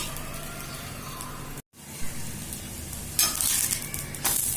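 Vegetable flatbread made with greens and plenty of coriander roasting in a pan, a soft steady sizzle with a brief silent gap, then brighter hissing bursts toward the end.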